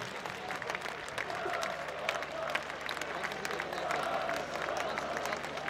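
Crowd applause at the close of a football cup match, Neumühler SV versus FC Hansa Rostock, a steady distant clatter of clapping across the stands with a faint public-address voice running underneath.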